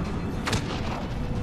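A single gunshot in the sci-fi shooter game Mass Effect, one sharp, fairly loud crack with a short rumble, standing out from a steady background of game noise.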